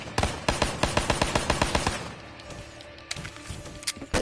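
Rapid automatic gunfire from a video game played with an akimbo mod on a modded PS4 controller, a fast even burst of loud shots lasting about two seconds, then scattered single shots and impacts.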